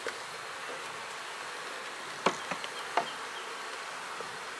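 Honey bees buzz around hive frames in a steady, moderate drone, with a few short knocks and clicks of frame handling nearby and no talk.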